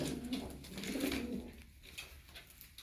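Pigeons cooing softly at a breeding loft, low murmuring coos that come close together, then fade into quiet rustling.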